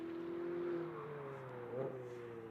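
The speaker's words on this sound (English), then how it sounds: "we get more chance to observe and listen to this gorgeous Ferrari" Ferrari GT race car engine at Motorland Aragon in a GT sprint race, a steady, fairly distant droning note with a mild swell near the start and a brief shift in pitch as the car passes.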